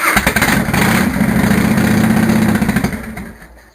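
Harley-Davidson Fatboy engine running loud and close just after a cold start, a rough uneven lumpy idle that holds for about three seconds, then fades and dies out.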